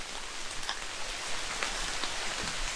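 Steady rain pattering on hickory leaves under a woodland canopy, a dense, soft hiss with scattered sharper drops, alone and fairly faint.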